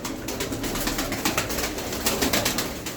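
Tumbler pigeons coo in a dense, continuous chorus of overlapping soft calls, fairly close and steady throughout with no talking.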